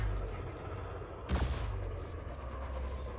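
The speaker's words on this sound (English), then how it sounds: "It's a frag cannon." A frag cannon fires in a space combat game, one sharp punchy blast rising out of a steady rumbling engine drone, close and loud with no voices.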